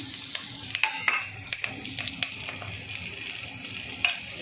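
Chilli frying in oil in a pan for egg fried rice, a close steady sizzle punctuated by sharp spatula taps and scraping clicks at irregular intervals.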